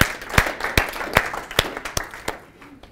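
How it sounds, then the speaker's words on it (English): An audience at a speaking challenge event claps loudly and close by, sharp distinct claps in a steady rhythm over a background crowd wash that fades toward the end. "give yourself a clap"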